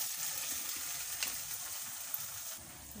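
Eggs frying in a pan for egg curry, a steady soft hiss and crackle of oil that continues throughout, with a couple of small pops.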